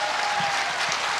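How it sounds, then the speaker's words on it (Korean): A church congregation applauding after a pastor's prompt: dense, continuous clapping from a crowd, steady and fairly loud throughout, with no talk over it. "박수!"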